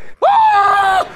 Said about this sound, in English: You screamed right in my face.